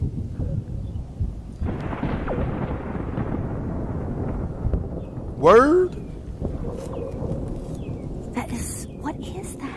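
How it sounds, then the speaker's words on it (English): A strange echoing thunder crack in Florida: a broad rumble builds, then a sharp descending, twanging echo sweeps down in pitch near the middle, with people talking and exclaiming throughout. "As thunder cracked through the sky, a strange sound soon followed."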